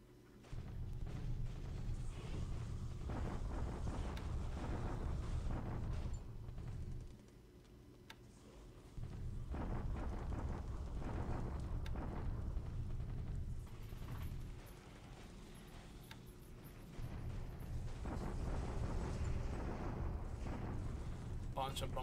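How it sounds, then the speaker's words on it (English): Rumbling bombardment explosions in a WWII Pacific strategy video game, a dense, continuous low roar of blasts at steady loudness with brief dips, under no talking. "Some bombardments."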